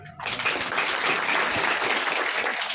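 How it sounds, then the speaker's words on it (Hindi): Dense, steady applause from a crowd at a religious gathering, many hands clapping at once for nearly three seconds after a brief quiet start. "जोर से ताली बजाओ"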